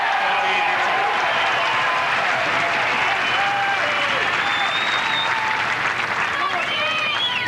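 A Dutch tennis crowd applauds in a dense, sustained roar of clapping at a 1997 match between Courier and Schalken, steady and loud throughout, with a commentator speaking over it.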